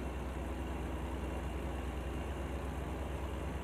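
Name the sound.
truck Jake brake in American Truck Simulator video game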